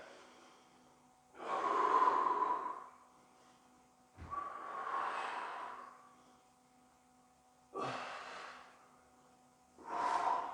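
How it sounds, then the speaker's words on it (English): Deep belly breathing with lips closed during an exercise flow, four slow nasal breaths in a calm room with a faint steady hum behind them. "Keeping the lips closed. Really breathing deep into the belly."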